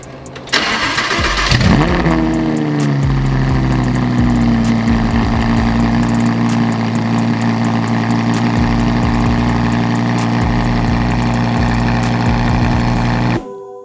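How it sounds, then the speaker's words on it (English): A Lamborghini Huracan 580-2 fitted with an SRM race exhaust cranks and fires up with a loud, sharp bark, then settles into a deep, steady, close-up idle with small blips of throttle before cutting off abruptly. "We're gonna start up the car, see how it sounds."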